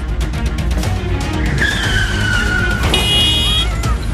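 A car skids hard on a road before striking a pedestrian, tires squealing in a rising, wavering screech over a loud engine roar, close and intense for several seconds.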